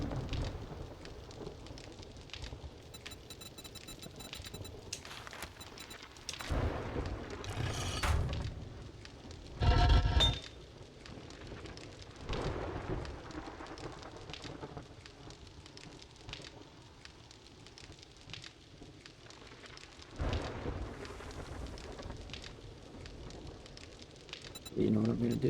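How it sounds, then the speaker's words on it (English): A video game thunderstorm with steady rain hiss and several deep thunder rumbles and booms at intervals, mixed with soft background game sounds. "There's a storm."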